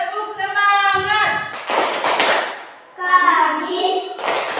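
Class of young children doing a rhythmic spirit clap together, with chanting voices alternating with bursts of group clapping and taps.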